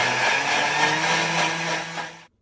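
A blender running on speed 10 whirs steadily as it purees cashews, cacao and dates into a paste, loud and close with a constant high whine, then cuts off abruptly at the end.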